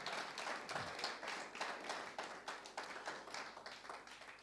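A small audience at a heritage and human rights panel claps for a speaker, a quiet, fairly distant patter of hands with distinct rhythmic bursts spread steadily across a few seconds.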